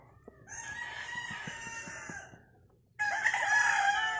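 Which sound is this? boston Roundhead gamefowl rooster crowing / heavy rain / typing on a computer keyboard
boston Roundhead gamefowl rooster crowing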